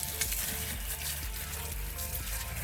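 Water rinsing spilled brake fluid off a car during a brake fluid change, a steady broadband splashing wash that runs continuously without pause.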